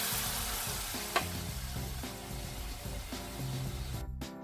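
Water poured into hot caramel sauce for Vietnamese braised pork belly sizzles and bubbles in a pan, a steady close frying hiss with a few soft clinks before it cuts off.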